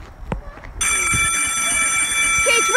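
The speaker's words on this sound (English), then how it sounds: "Okay, recess. The bell's ringing." A school bell rings for recess, a loud continuous electric ringing that starts abruptly after a few soft knocks and holds steady to the end.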